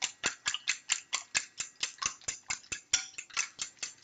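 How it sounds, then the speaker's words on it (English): Eggs are beaten with a whisk in a bowl, an even, brisk series of close clicking strokes, roughly four per second, with no speech. "So you want to whisk it very well."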